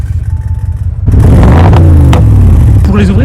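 An Audi RS7 with an APR tune revs up loudly and close with its exhaust valves closed, a deep idle rumble climbing into a strong roar before falling back.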